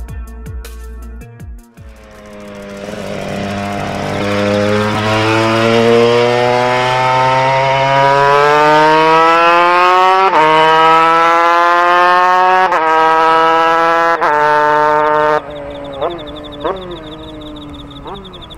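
Honda RS125RW single-cylinder two-stroke racing motorcycle engine, a loud, sustained high-pitched wail rising steadily through the gears as it passes close, ending in sharp throttle blips and a brief drop.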